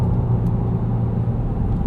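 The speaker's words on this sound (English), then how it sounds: "It's got just a little bit of an induction noise, which is still probably artificially piped in" A 2017 Volkswagen GTI Sport with a six-speed manual hums with steady engine and induction drone while driving, a loud, even low rumble from inside the cabin.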